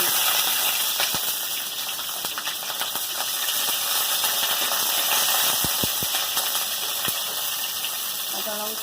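Nigella seeds and two green chillies sizzle in hot oil, a steady hiss with scattered small pops and crackles that continues throughout.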